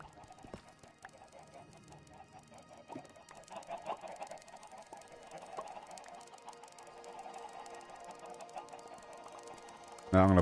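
Chickens in the block-building video game Minecraft clucking softly and repeatedly, faint and somewhat distant over a quiet background, with a louder sound cutting in at the very end.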